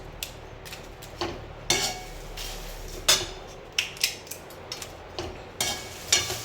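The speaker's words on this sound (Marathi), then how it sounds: "दालचिनीचे पण तुकडे करून घ्यायचे आहेत" Cinnamon sticks snapped into pieces by hand while preparing a homemade raja masala spice blend; about a dozen sharp, dry cracks come in irregular bursts, close and fairly quiet, with no talking.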